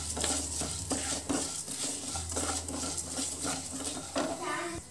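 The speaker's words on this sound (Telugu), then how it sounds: "ఇది బాగా ఫ్రై అవ్వాలండి మంచి గోల్డెన్ కలర్ వచ్చే వరకు ఫ్రై చేసుకొని" Ingredients for Guntur gongura pickle fry steadily in a pan with a soft, continuous sizzle, while a utensil stirs and scrapes at a fairly regular rhythm.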